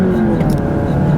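A 2017 Fiat 500X Trekking with front-wheel drive accelerates hard from a standstill, its engine giving a loud, steady droning roar heard from inside the car.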